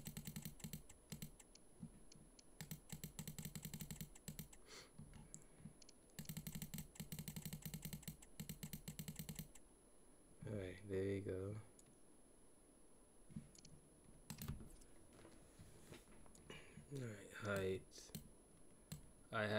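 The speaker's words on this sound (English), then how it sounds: "I must be able to type this." Rapid clicking keystrokes on a computer keyboard in long dense bursts, close to the mic, pausing as someone speaks and then resuming with a few scattered taps.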